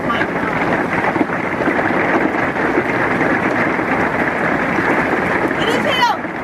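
Heavy monsoon rain with massive raindrops pours down in a loud, steady, unbroken roar that holds at the same level from start to finish.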